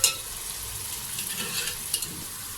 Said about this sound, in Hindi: ये देखिए चने भी अच्छी तरह से भून गए हैं मसाले के अंदर।